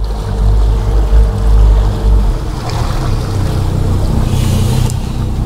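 Engines of a Sea Ray 320 SD motor boat maneuvering on the water, a steady low rumble with a louder surge early on, then an even drone with faint water wash and no talking.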